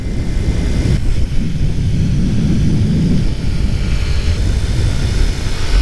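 A Honda 90 motorcycle engine running on six-year-old fuel, a steady loud droning roar held throughout at speed, with wind buffeting under it and no talk.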